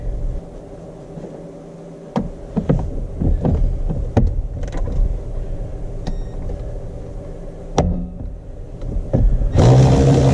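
A power seat motor in a 2008 Saturn Aura whirs as it drives the seat forward, a low mechanical hum broken by several sharp clicks and knocks, ending in a louder burst near the close.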